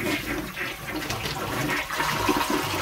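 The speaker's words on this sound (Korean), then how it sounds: "이게 이 정도가 세팅 값이고 물 한번 내려볼게요. 잘 내려가는지." A newly installed replacement toilet flushes at close range in a small farm hut, a loud steady rush of draining water that runs throughout.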